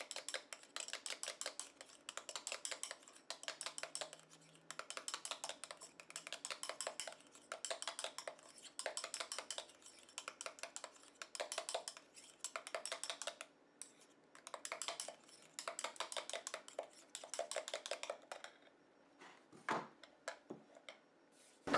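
Homemade moisturizing face cream stirred in a bowl, a steady run of quick, close scraping and clicking strokes in bursts with short pauses, fairly faint and with no voices.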